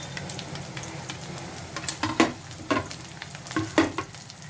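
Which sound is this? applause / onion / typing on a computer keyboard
onion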